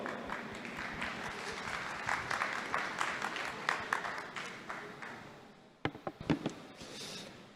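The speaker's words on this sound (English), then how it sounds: "Palmas para ele" An audience at a talk applauds as a speaker is called to the stage. The clapping is dense and sustained from a crowd at moderate distance, then fades into scattered claps and a few knocks near the end.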